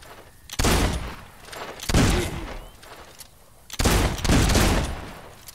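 Gunfire aimed at targets in the video game Fable II: bursts of rapid, booming shots come in three loud volleys, with quieter gaps between them.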